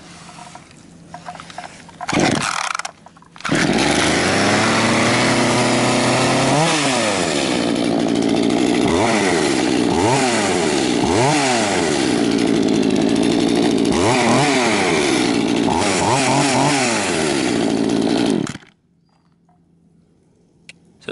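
An Echo CS260TES two-stroke chainsaw starts up after a short pull and a brief sputter, then runs loud and close, idling with repeated throttle revs that rise and fall before it cuts off.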